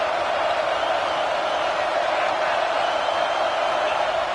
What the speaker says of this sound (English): Tremendous crowd atmosphere now in the final minute of play.